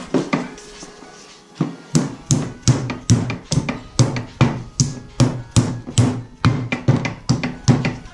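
A hammer strikes a lower ball joint on a 2004 Honda Accord over and over, sharp metallic blows in a steady rhythm of roughly two per second, loud and close after a brief quiet start.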